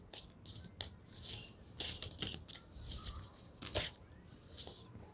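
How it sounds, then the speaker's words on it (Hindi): Tarot cards being reshuffled by hand, giving a run of crisp papery riffles and flicks in irregular bursts, close and fairly quiet with no talking. "मैं दोबारा शफल करूँगी"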